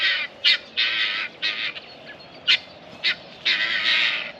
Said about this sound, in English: Got the guinea hens up here this morning.